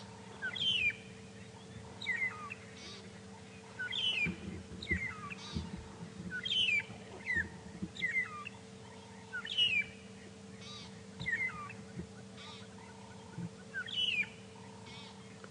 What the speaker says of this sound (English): these magpie shrikes don't look like they're going anywhere for now, and they're really enjoying basking in the sun.